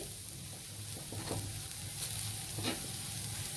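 Thinly sliced onions roasting in a hot kadhai for a crab curry masala, giving a steady soft sizzle with occasional stirring scrapes, close and unbroken throughout.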